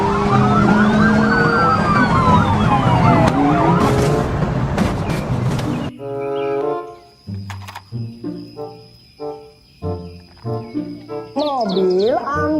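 Toy police car siren wails in rising and falling electronic tones, loud and close for about six seconds, then gives way to a tinny electronic jingle of beeps and chimes with a final warbling sweep.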